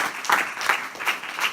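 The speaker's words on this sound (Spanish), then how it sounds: "Dale un aplauso a Cristo, no somos más que eso." A church congregation claps briefly during a service, a short burst of rhythmic group applause.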